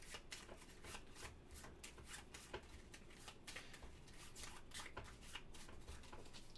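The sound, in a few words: shuffling playing cards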